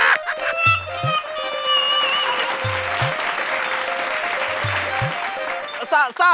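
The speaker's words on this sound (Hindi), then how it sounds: "तालियां।" Audience applause in a staged comedy scene, a sustained burst of clapping running throughout, with short bursts of talk and a crowing-like sound mixed in.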